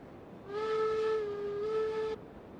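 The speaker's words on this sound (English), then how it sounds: "It's over there playing with the train whistle trap." A steam train whistle in the railroad game Railroads Online blows one steady, clear tone for about a second and a half, starting and stopping abruptly, heard alone against quiet background.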